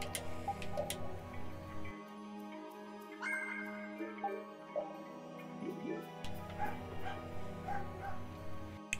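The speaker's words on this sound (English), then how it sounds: "Think the dog is yapping" A small dog yapping in the video game Tales of Vesperia, a few short yips and whimpers over steady game music, with a quieter stretch in the middle.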